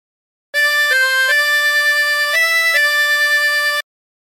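A tremolo harmonica plays a slow hymn phrase from There's a River of Life, with sustained, wavering reedy notes that step between pitches. The phrase is loud and close and runs for about three seconds with no talking.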